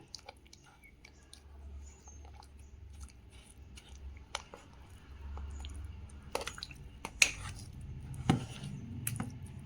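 Boiled, cooled milk being stirred into a sweet potato and semolina batter, soft wet squishing and scraping with occasional sharp taps of a spoon against the bowl, quiet and close.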